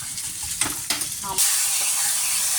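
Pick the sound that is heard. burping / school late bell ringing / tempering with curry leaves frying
tempering with curry leaves frying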